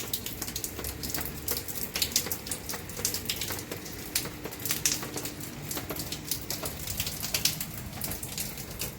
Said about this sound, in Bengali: অনেক বৃষ্টি হয়েছে,